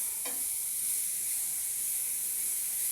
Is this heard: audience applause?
no